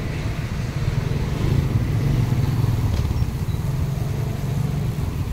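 A motorcycle riding along a road in Laguna, a steady low engine drone with rushing wind and road rumble, constant and close, with no speech over it.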